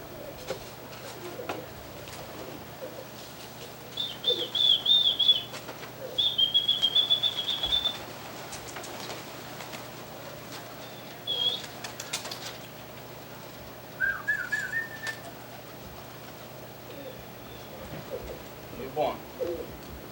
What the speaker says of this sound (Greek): αυτά είναι τα πουλιά, φίλε μου